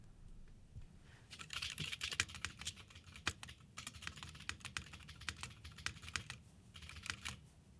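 Someone types a short phrase on a mechanical computer keyboard: close, crisp key clicks in a quick, uneven burst with brief pauses, and no voices.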